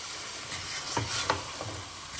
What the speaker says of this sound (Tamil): பையன் கையை விடாமல் கிண்டிக்கிட்டே இருந்துட்டான்